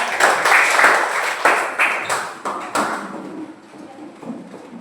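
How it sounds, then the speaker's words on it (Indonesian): Schoolchildren in an elementary classroom applauding together, a burst of clapping that comes in several rhythmic waves before fading out into quieter room noise. "tepuk tangan silakan dulu ya"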